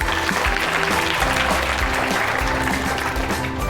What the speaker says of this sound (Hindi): जयदीप भैया के लिए ताली बजाओ